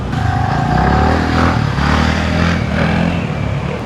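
A motorcycle engine drones loudly and close by in Anuradhapura, Sri Lanka, its pitch rising and falling as it rides past with a rough, clattering rumble.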